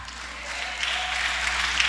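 Congregation clapping during a Filipino church service, a steady, moderately loud wash of hands that holds evenly for about two seconds with no voices over it.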